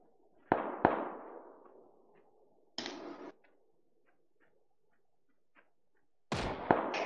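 Gunshots in PUBG casual mode on Stadia ring out as a few sharp, loud cracks. A quick pair comes first, then a single burst, then another close cluster at the end, with near-silent gaps between.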